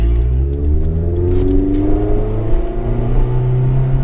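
A single-cam Honda CRX engine revs hard and close, its harmonics sweeping up and down over a steady low rumble in cold weather, loud and unbroken with no talking.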